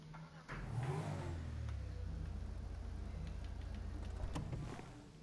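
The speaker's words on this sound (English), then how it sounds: "It doesn't even have a rev. It's an electric car." An electric car in GTA Online gives a short, soft rev that barely swells, a muted whirring hum held steady under a low rumble, close and fairly quiet.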